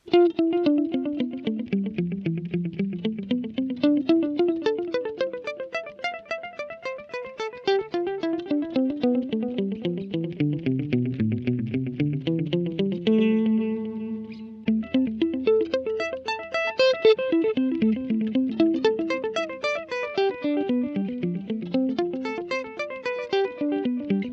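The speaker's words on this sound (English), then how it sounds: "now I'll put the delay back on again, suddenly it makes things sound a lot more interesting" Electric guitar played through a VOX AC30 amPlug 2 headphone amp with delay switched on, a continuous stream of distorted, chorused notes with sweeping melodic runs and echoing repeats, loud and alone with no talking.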